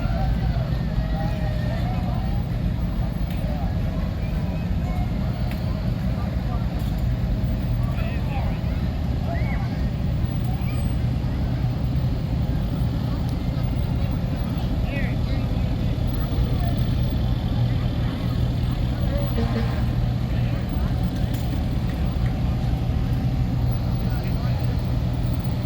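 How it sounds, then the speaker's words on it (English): Several Foster Roofing vehicles roll past in a small-town parade, a steady low engine rumble that holds at an even level throughout with faint background activity. "we have several vehicles from Foster Roofing."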